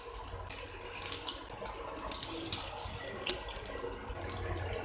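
Paneer cutlets dropped into a pan of hot oil for shallow frying give a faint, steady bubbling hiss with scattered sharp crackles and pops.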